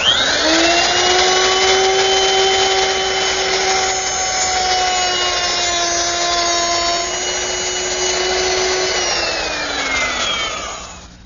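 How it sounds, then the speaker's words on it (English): A router fitted with a 1/4-inch round nose bit and guide fence plunges into wood and cuts a stopped groove, a loud steady whine with a sustained high tone that holds for about ten seconds before the motor note drops away at the end. "it's very easy to make that groove using a router with a 1/4-inch round nose bit and a guide fence"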